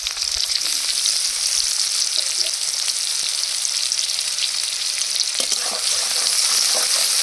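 Whole cumin seeds, chopped onion and garlic fry in hot oil, a loud, steady, close sizzle with occasional stirring, no voices over it.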